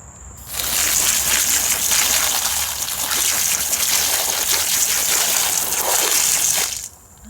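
Running water rinsing dusty glass fritballs, a steady loud gushing splash that starts abruptly, holds for about six seconds with slight sloshing variation, then cuts off, with no talking.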